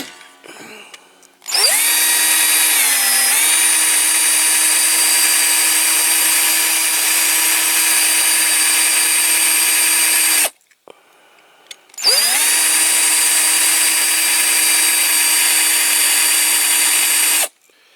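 A power drill bores out a rivet on a die-cast Matchbox King Size Allis-Chalmers motor scraper model during restoration. It gives a close, loud, steady high-pitched whine that runs about nine seconds, stops briefly, then starts again for about five more seconds.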